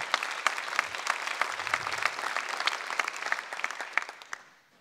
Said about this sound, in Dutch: applaus voor Worthy